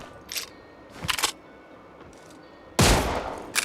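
Sniper rifle fire in the PUBG video game: a few sharp, loud cracks spaced apart, with one heavy boom near the end and no talk.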